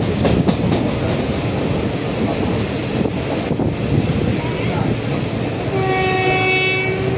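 An express train rumbles past with steady rolling noise and wind buffeting, then a loud sustained horn blares near the end.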